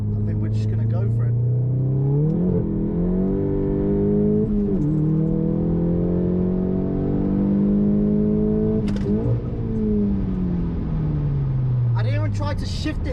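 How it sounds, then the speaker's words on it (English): A VW Golf GTI MK7 pulls hard in second gear, the engine note rising steadily with brief dips at the shifts, loud and close from inside the cabin, with someone talking over it. "I'm going to do a little second gear pull."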